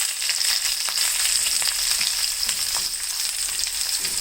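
Onion pieces sizzle in a pan of hot oil alongside fenugreek seeds and curry leaves for a pulusu curry, a steady bright frying hiss with faint stirring clicks, close and continuous with no talk.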